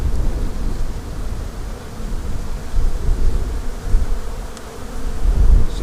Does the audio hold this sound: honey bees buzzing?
yes